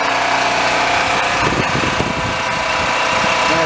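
A Predator 4375 engine idles on wood gas with a steady, loud, close mechanical drone that holds a constant rumble throughout, with no voices.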